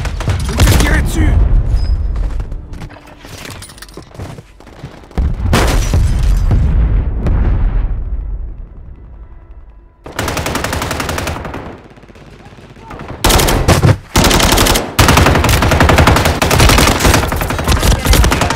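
Call of Duty gunfire and explosions: dense machine-gun bursts and booming blasts come in loud waves, with a short quieter lull in the middle and a game voice talking between the volleys.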